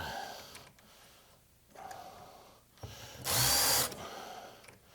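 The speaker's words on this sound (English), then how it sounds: "2 more screws for there. Get our bit going." A power drill drives screws into a wooden sink base cabinet during assembly: one loud, close, half-second whir stands out among quiet handling sounds.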